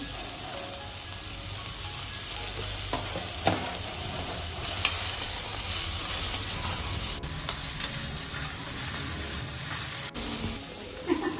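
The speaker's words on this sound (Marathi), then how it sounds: "आता इथं आपण कोबी फ्राय करून घेऊया." Shredded cabbage frying in a hot pan for homemade noodles, a steady loud sizzle with occasional stirring scrapes throughout.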